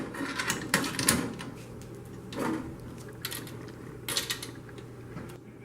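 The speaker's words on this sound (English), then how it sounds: "Reinstall the side door by engaging it over the hinge pins." A side door on a commercial toaster is being fitted back over its hinge pins, a series of close metallic clicks, clacks and rattles in irregular bursts with quieter pauses between, no talking.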